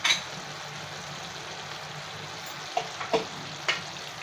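Whole Indian gooseberries (amla) gently stirred in hot sugar syrup, a soft steady sizzle with a few faint clinks of the spoon against the pan, quiet and close.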